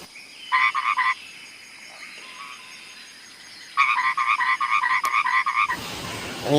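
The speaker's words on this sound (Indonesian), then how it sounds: "katak teman-teman." A green horned frog croaks in two bursts of rapid, rhythmic pulses, close and loud, separated by a quiet stretch, with a sharp click and a brief rustle near the end.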